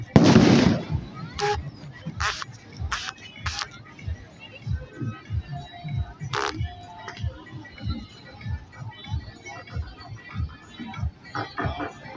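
Firecrackers go off at a Chhath Puja riverside ghat celebration in Lucknow in a rapid, irregular string of sharp pops and bangs, with a loud burst at the start and crackling continuing throughout.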